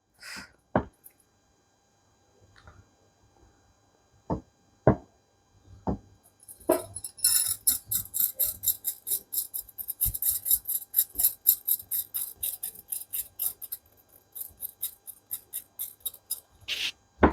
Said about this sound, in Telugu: ఇవి చెక్కుతున్నాను చూడండి